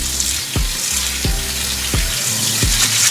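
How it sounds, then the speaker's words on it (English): A cup of lentils being washed under running water, giving a steady rushing hiss broken by four evenly spaced soft swishes and thumps as the grains are stirred. "And remember to always wash your lentils."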